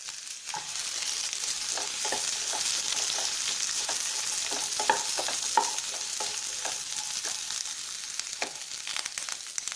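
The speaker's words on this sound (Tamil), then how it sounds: "இதுவும் கொஞ்சம் நல்லா ஃப்ரை ஆகட்டும்" Two large sliced onions fry for a paneer tikka masala with a constant, hissing sizzle. Repeated light scrapes and taps come from stirring in the pan, with no voices.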